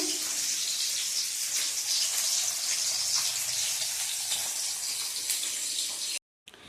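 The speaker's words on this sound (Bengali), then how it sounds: "ভাজাভুজিও হচ্ছে" Food frying in a pan in a home kitchen, a soft continuous hiss-like sizzle at moderate distance, steady throughout before a brief drop to silence at the end.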